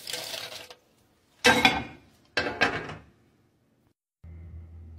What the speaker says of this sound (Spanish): es turno de los guajes, empezar a agregar en el molcajete y para poderlos empezar a moler bien